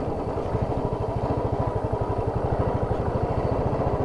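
A motorcycle engine thumps in a fast, even rhythm throughout the ride on a rough mountain road toward Muktinath, close and steady with a faint clatter and no voices.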